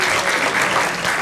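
Audience at a voting rights forum claps for a departing panel, a brief burst of dense, steady applause filling the room, loud and close, with no talking.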